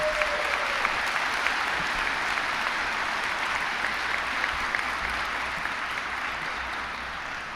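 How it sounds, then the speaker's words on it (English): A warm round of applause from a large audience at a university presidential inauguration for the former president, dense sustained clapping at fairly strong volume that tapers slightly near the end. "Let's give her a warm round of applause again."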